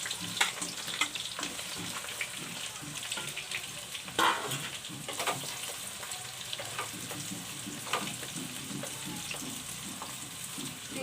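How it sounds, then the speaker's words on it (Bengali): Sliced onions deep-frying in oil until crisp for aloo biryani, a steady broadband sizzle with occasional scraping stirs and brief clatters, close and continuous throughout, no talking. "পেঁয়াজগুলো আমি বেরেস্তা করে নিচ্ছি।"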